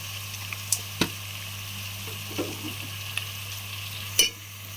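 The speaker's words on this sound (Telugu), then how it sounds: "బాగా మిక్స్ చేయాలి, బాగా కలపాలి." Potato pulao with salt and turmeric stirred in a pan, the spoon giving a few sparse scraping clicks over a steady low hum and faint sizzle, close by with no talking.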